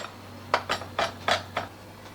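A knife chopping a garlic clove on a cutting board, five or six distinct sharp taps in an uneven rhythm, close and fairly quiet over a low background hum.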